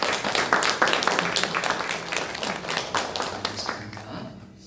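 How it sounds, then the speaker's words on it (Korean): A church congregation claps together during a Sunday worship service, many hands striking in a dense, steady patter that stays loud and close before gradually thinning out at the end; faint voices murmur underneath. "우리 박수 한번 해주시기"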